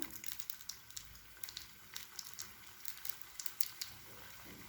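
Bolinhos caipira fry in hot oil, a close, soft crackle of popping bubbles with irregular sharp spits and bursts running steadily throughout.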